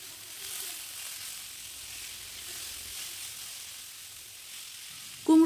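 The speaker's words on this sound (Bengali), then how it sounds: "এইভাবে নাড়াচাড়া করতে করতেই কুমড়ো আর পেঁয়াজটা নরম হয়ে আসবে, আর এটা কিন্তু একদম লো ফ্লেমেই করতে হবে।" Pumpkin and onion cook slowly over a low flame, giving a faint, even sizzle with light stirring scrapes, followed by a sudden louder sound at the very end.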